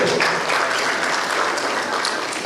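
An audience at a Nigerian government press briefing on regional development gives a brief round of applause, an even wash of close clapping with no talk over it.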